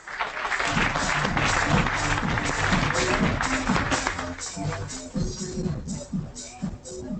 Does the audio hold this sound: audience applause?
yes